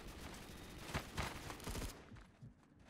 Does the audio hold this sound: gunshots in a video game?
yes